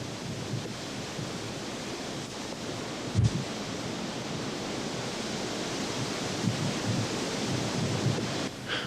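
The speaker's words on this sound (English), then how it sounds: "When waves wash over the flow, the water doesn't boil off immediately because a steam cushion develops above the lava" Ocean waves washing over an active lava flow on Kilauea, a steady broadband roar of surf with a few heavier surges, close and continuous with no voices.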